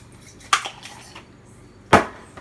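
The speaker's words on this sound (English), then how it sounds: "you're gonna spray the shit with Pam," Two short hissing bursts as Pam cooking spray is sprayed into a casserole dish, close and fairly loud, about a second and a half apart, with quiet pauses between.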